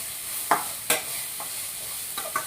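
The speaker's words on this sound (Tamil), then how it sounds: "முருங்கைக்கீரையும் சேர்த்து வதக்கியாச்சு" Moringa leaves and onions sauté in a pan with a soft, continuous sizzle, punctuated by several sharp scrapes and clacks as the mixture is stirred.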